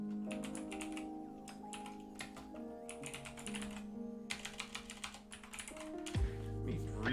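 Keyboard typing at a computer during a programming session, with bursts of close keystrokes in uneven runs over a steady background tone.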